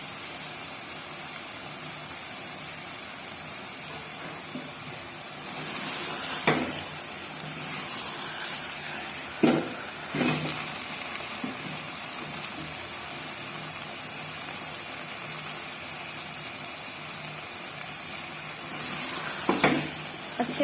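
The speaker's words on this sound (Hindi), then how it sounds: "अभी और फ्राई कर लें।" Spinach chicken with potatoes fries in a pan with a steady, bright sizzle throughout, broken by a few sharp scrapes and knocks of a spoon stirring the mix, close and moderately loud with no talking.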